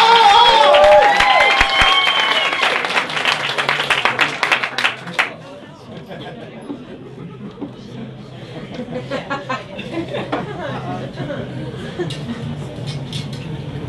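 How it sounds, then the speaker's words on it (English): A comedy club audience at a stand-up show applauds loudly at first, then the clapping fades into murmuring chatter and scattered noise. "start the applause, bring it up, bring it up"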